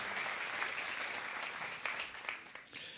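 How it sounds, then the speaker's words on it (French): An audience claps warmly and steadily for donors at a church gathering, a dense continuous patter with a few sharper claps near the end. "Est-ce qu'on peut applaudir bien fort tous les donateurs, s'il vous plaît?"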